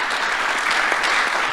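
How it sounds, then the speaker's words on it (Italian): An Italian audience at an event in the Veneto applauds, a steady, fairly loud wash of many hands clapping with no break across its short length. "Io vi invito, grazie mille, un applauso"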